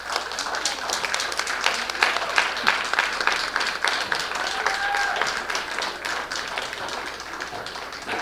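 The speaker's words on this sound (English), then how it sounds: "If that is you, clap your hands." An audience claps hands at a Black History Month gathering, a steady rapid patter of many hands from a crowd, sustained and fairly even with a faint murmur behind it.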